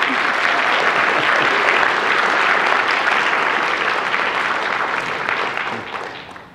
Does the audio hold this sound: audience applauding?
yes